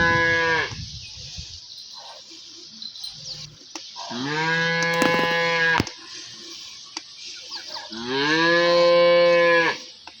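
A cow moos repeatedly in a dairy farm milking area, giving three long, loud bellowing calls close by with quieter pauses between them.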